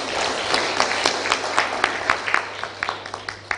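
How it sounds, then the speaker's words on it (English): Audience at a national post-election symposium applauds in a loose, moderate round of scattered claps, growing sparser and fading toward the end. "Are we able to give him a better round of applause"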